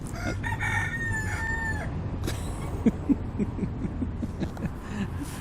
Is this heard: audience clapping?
no